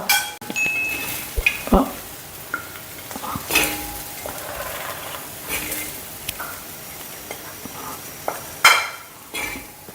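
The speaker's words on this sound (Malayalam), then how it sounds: "ഒരു പാത്രത്തിലേക്ക് ഞാൻ വിളമ്പി കാണിച്ചു തരാം" A spoon scrapes and clinks against a pan as chicken kondattam is scooped out into a dish, with a few sharp metallic knocks between quieter shuffling.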